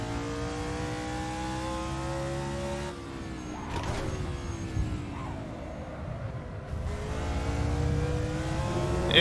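A loud truck engine in a racing game drones with steady harmonic tones, rising and falling in pitch as it revs, and climbs into a stronger rev at the end.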